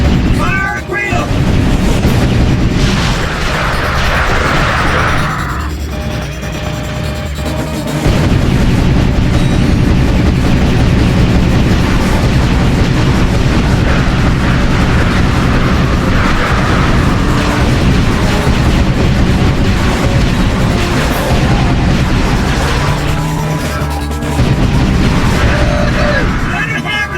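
Weapons fire and explosions from the video game Ratchet & Clank: Up Your Arsenal, with steady rolling booms and bursts under continuous game music and voices for the whole stretch.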